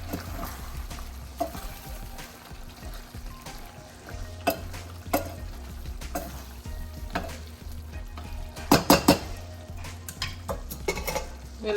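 Mutton palak with wilted spinach is stirred in a metal pot, with steady spoon scrapes and clanks over a soft cooking sizzle and a cluster of sharper knocks near the end.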